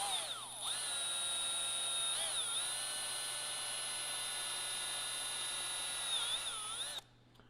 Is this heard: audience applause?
no